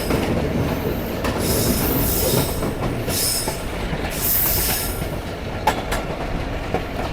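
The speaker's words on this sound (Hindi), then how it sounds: "आयरन हॉर्स प्रिजनर ट्रेन को खींचता हुआ लेके जा रहा है किला अब्दुल्ला की तरफ।" A locomotive hauls a prisoner train near the Afghan-Pakistan border, heard as a loud, continuous rolling rumble of rail wagons with squealing wheels and occasional clicks of wheels over track joints, no speech.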